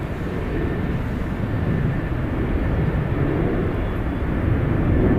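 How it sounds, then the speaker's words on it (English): An American Airlines Airbus A321 arriving at San Francisco International Airport after a flight from JFK, its engines making a broad, steady roar that swells slightly over a few seconds. No voices. "Gonna be arriving here American Airlines flight 179 coming in from JFK."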